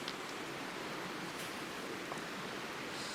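Butane gas hissing steadily from a backpacking stove, a continuous close, even rush of noise with no breaks and no talk.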